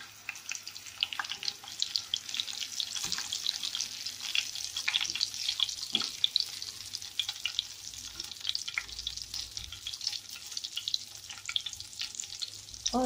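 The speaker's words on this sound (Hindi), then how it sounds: "ये हो रहे हैं कबाब तैयार।" Kebabs frying in a pan in a home kitchen, a steady bright sizzle with crackling spatters running throughout, close and continuous with no talking.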